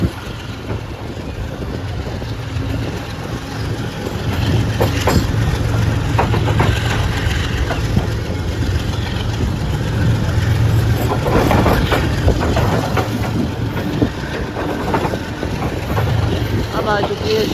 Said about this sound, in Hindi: अब आ चुकी है शायद 18 डाउन मिल्लत एक्सप्रेस